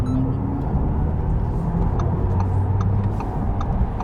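An Audi e-tron GT electric sports car accelerating gives a steady low rumble heard from inside the cabin, with a faint rising whine under the road noise.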